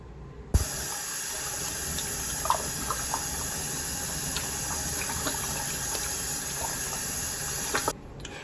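Tap water runs steadily into a sink while face cleanser is washed off, a close, even gushing stream that starts abruptly and stops after about seven seconds, with small splashes on top.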